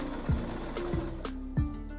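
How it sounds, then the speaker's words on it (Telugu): A new domestic sewing machine runs a reverse stitch in short whirring bursts with mechanical clicks between them, heard close up and clear, with no talking. "రివర్స్ స్టిచ్తో డబల్ కుట్టు కుట్టేద్దాం ఫ్రెండ్స్"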